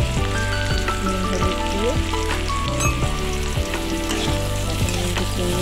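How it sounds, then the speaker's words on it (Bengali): Pre-boiled potato pieces fry in a pan with salt and turmeric, giving a loud, continuous close sizzle with occasional stirring scrapes, while a voice speaks briefly over it. "আলুটা একটু ভেজে নিচ্ছি"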